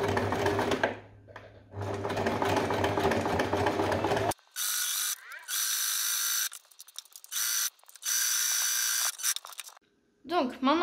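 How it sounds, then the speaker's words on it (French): Sewing machine stitching a straight seam on a washcloth: loud steady motor whirring in several bursts separated by brief pauses, with talk over the first few seconds. "Maintenant, on place une couture à environ 1 cm du bas."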